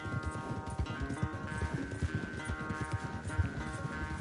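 Horse galloping in Red Dead Redemption 2, a steady rapid clip-clop of hooves running throughout over a constant droning background of game music and ambience.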